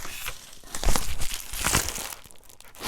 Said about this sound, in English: I am going to cut it open